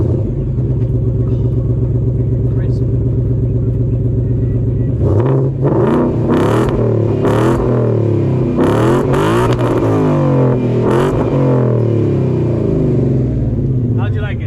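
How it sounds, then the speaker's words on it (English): A Ford Mustang GT exhaust idles with a deep, steady burble, then erupts into a series of sharp, loud revs with crackling, punchy bursts, close to the microphone at a car meet in Miami. "We're gonna hear his exhaust setup for the first time."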